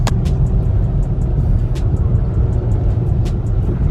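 A small front-wheel-drive car pushes through a snowstorm on a road covered in nearly a foot of snow, its engine and tires a loud, constant low rumble from inside the cabin, punctuated by repeated soft ticks.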